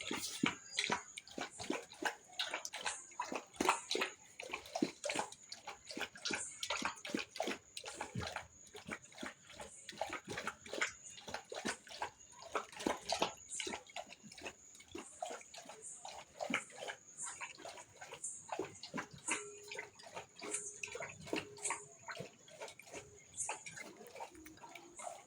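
A pet laps water from a dish, a long run of quick, close, wet clicks and slurps in an uneven rhythm, soft and steady throughout with no talk over it.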